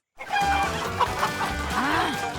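Several chickens cluck close by in a busy, overlapping chorus, with a rising squawk near the end.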